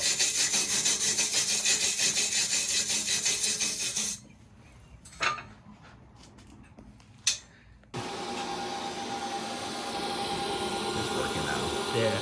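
Stainless steel wire brush scrubs metal in fast, harsh, rasping strokes, a loud close scratching that stops for a few seconds of quiet with a couple of knocks, then resumes.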